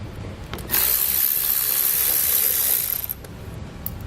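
Loud burst of a power tool driving T30 screws from the fender liner of a 2017 Ford Focus, a dense whirring rattle lasting about two seconds before dropping back to quieter shop ambience.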